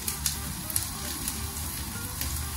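Onion frying in a pan for spaghetti alle vongole, a steady close sizzle with faint crackles and the odd tap or stir, no talking.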